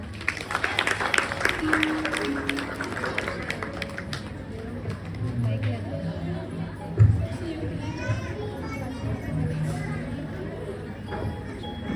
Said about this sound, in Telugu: ముందుగా మనకి స్పెషల్ గెస్ట్ గారు వస్తున్నారు, వాళ్ళందరినీ చప్పట్లతో ఆహ్వానిద్దాం